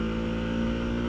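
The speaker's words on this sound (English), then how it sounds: "It revs way too fast!" A 2022 Harley-Davidson Pan America Special motorcycle engine revs hard at a launch, giving a loud, close, sustained drone that holds at high pitch without dropping, with no talk over it.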